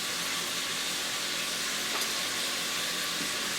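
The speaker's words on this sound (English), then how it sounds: "We're frying the green bananas in batches." Green bananas fry in batches in hot oil, giving a steady, dense sizzle and hiss that holds evenly throughout at moderate loudness, with no talking.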